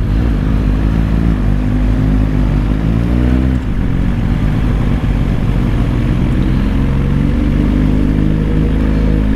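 Motorcycle engine roaring loudly and continuously near a residential uphill road, a dense sustained drone with a brief dip midway, no voices.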